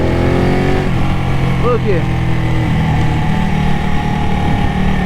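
A Ducati Panigale 1199 S engine drops through a downshift, the loud, close rev briefly blipping and then settling as the bike slows, and a rider speaks a short word over it.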